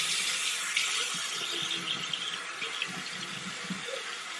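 Water runs from a tap at a steady, soft hiss, fairly faint, with small splashes and gurgles shifting in the stream.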